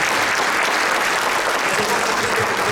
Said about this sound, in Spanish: Denle un aplauso aquí bien por los hijos.